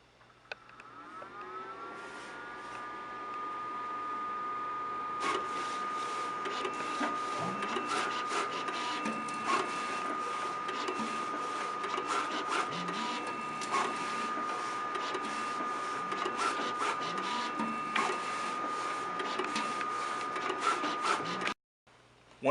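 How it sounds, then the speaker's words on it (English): A DPR Scorpio finishing machine feeds print media through its rollers in a steady mechanical whir with a constant tonal hum, starting up after a couple of seconds and running continuously, close and fairly loud, before cutting off near the end. "start a job so you could feed the unit enough media for the next step."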